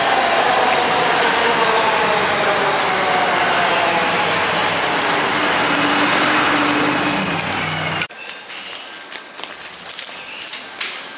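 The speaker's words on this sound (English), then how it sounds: "Our train is coming." A loud, rushing rumble of a train builds and roars past for several seconds, then cuts abruptly to quieter rattling and clatter.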